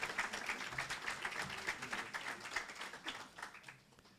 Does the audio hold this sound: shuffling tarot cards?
no